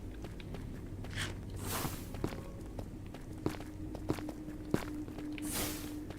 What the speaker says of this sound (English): I heard the footsteps of something.